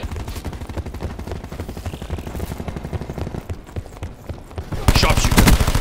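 Video game gunfire rattles in quick, steady bursts under a talking voice, growing louder and denser near the end.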